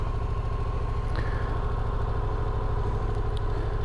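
A 2019 Yamaha MT-07 motorcycle engine idles steadily at close range, giving a continuous low, even rumble with a faint mechanical clatter and no talking.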